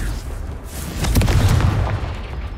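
A Confringo spell explosion in Hogwarts Legacy lands as a single booming burst with a crackling, rumbling tail over a constant low game backdrop.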